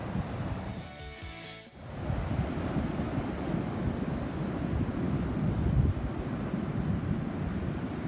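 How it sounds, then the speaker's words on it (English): Ocean surf with some fairly large waves rolling in, a steady broad wash of breaking water with wind buffeting the microphone, after a brief louder rumble near the start; no talking. "look at the waves, some of them pretty big"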